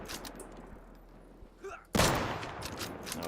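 Turret fire in the survival shooter Deadside, a sudden loud burst of rapid gunfire breaking in after a quieter stretch with faint thumps, continuing as dense overlapping shots.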